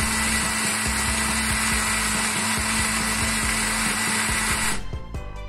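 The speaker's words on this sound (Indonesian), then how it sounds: "Selanjutnya kita blender sampai halus." A kitchen blender grinds pandan and suji leaves with water into a smooth juice, a loud steady motor whir that runs continuously and then cuts off near the end.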